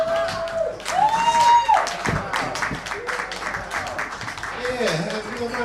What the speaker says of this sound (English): round of applause for Sammy Boss